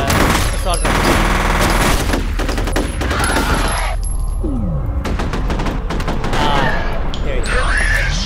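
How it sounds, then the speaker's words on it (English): Assault rifle fire in the shooter game F.E.A.R., loud sustained bursts with booming impacts and effects crowding the mix, broken by short pauses. "Killing you with a snap assault rifle."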